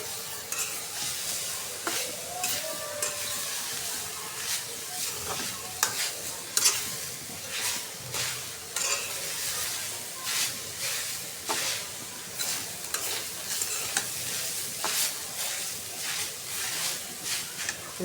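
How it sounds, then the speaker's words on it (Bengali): Grated coconut frying in a pan for coconut naru sweets, stirred continuously: a soft hiss and crackle under repeated scraping, rhythmic strokes of the spatula, close and moderately quiet, with no speech. "এই যে আমি নারকেলটাও ভেজে নিতেছি"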